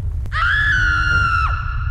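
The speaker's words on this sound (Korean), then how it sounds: "선아가 비명을 질렀다" A young woman's single long, piercing scream from a Korean horror radio drama, loud and close, holding steady before breaking off sharply near the end, heard alone without talk.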